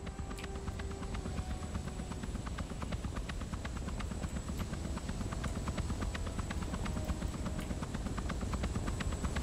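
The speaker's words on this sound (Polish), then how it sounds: "Polecimy tym samym helikopterem, którym leci jeden z niedoszłych celi." A helicopter in Hitman's Dubai level drones steadily with fast rotor chop, loud and continuous throughout, with no talking.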